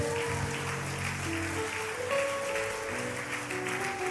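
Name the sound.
congregation applauding and acclaiming in church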